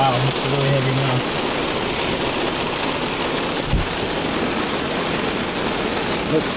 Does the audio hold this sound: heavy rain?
yes